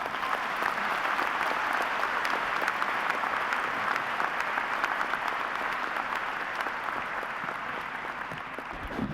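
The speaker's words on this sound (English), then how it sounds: "Now you can applaud." A large graduation crowd at a university commencement applauds in a dense, sustained wash of clapping that holds steady for several seconds before easing slightly.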